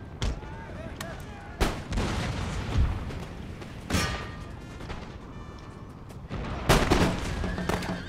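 Musket volleys crack out in an Empire: Total War battle as line infantry fire back at troops on a militia's flank; repeated loud, sharp bursts with scattered shots and rumbling between them, under a steady battlefield din.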